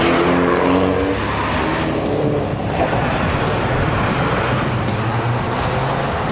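A Mini John Cooper Works coupe with a 1.6-litre, 208-horsepower engine drives hard, its engine roaring loudly and continuously close by with a steady, dense drone and no talking.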